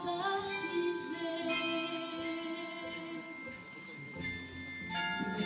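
Carillon bells of St. Lary church ring a melody of clear, sustained metallic tones that overlap as they decay, heard at a moderate distance with no talking.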